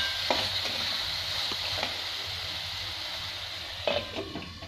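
Tomato rice is stirred in a hot pan, with a soft continuous sizzle broken by a few scraping spoon strokes, the loudest near the end, with no talk.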